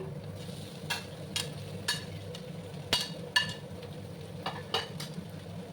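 Potatoes and pointed gourd sizzle in a frying pan while a utensil stirs them, with repeated scraping strokes about every half second over a constant close frying hiss.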